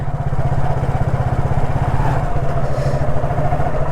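A delivery rider's motorcycle engine runs steadily and close while riding, a loud, even low throb with a rapid pulsing rhythm and wind noise.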